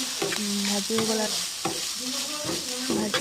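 Steady sizzling and crackling of fat frying in a hot pan, with repeated scraping and stirring sounds over it, close and fairly loud.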